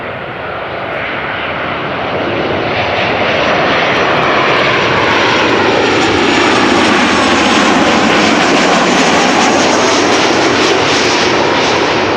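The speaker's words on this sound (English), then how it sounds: "This is KLM flight 1042 737-800 arriving from Birmingham." A KLM Boeing 737-800 arriving at Amsterdam Schiphol roars loud and steady overhead, swelling as it nears and holding a broad jet rumble for several seconds, with no voices.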